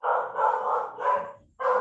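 A dog barks nearby in drawn-out, loud, yelping bursts, two long calls followed by a short one after a brief pause, with no talking.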